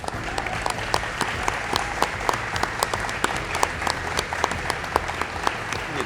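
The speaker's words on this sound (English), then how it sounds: "I would like them to stand and give some applause to our police and firefighters" An audience at a hurricane preparedness gathering applauds police and firefighters, steady close clapping with distinct sharp individual claps popping out across the whole stretch.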